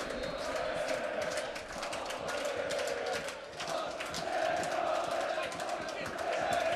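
A large football crowd of several thousand Željezničar fans roars and cheers continuously after a goal at Grbavici stadium, a loud, sustained wash of voices with shouts rising and falling throughout.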